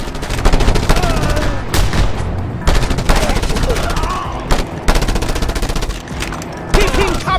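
Rapid automatic gunfire rattles in the video game Just Cause 2 during a cover-fire fight, loud and close in dense bursts broken by brief pauses, with a voice speaking in between.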